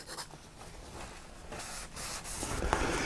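Nib of a 1926 Carter's fountain pen rubbed in figure eights on a medium abrasive, a soft continuous scratchy rasp with faint rhythmic swells, heard close and quiet.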